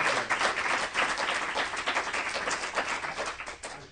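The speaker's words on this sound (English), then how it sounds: "Let's give Sherry another round of applause." Audience at a divinity school performance gives a dense burst of clapping, lively and continuous, close and fairly loud throughout.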